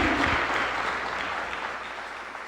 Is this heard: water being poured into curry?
no